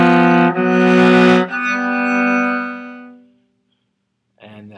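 A bowed string instrument plays a left-hand finger exercise, sustained pitched notes moving stepwise through the fingers at a slow, even pace, close and clear, then fading to silence before a brief new note starts.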